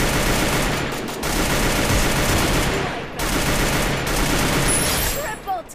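Sustained automatic gunfire from the Free Fire battle royale video game hammers loudly and densely throughout, with two short gaps between bursts.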